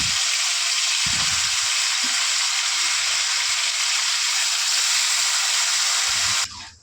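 Marinated chicken frying in hot oil and butter with whole spices, a loud continuous hissing sizzle close by, with a few soft utensil bumps underneath, cutting off sharply at the end.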